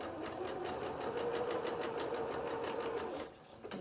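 A sewing machine runs a zigzag stitch onto fabric and off again in one steady, close whirring burst lasting a few seconds, then stops abruptly.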